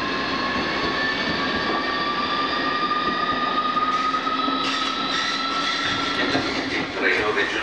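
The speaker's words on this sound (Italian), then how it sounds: "Il rumore è di un Italo" An Italo high-speed train passing at a railway station, giving a loud, steady rumbling roar with a high whine that holds throughout.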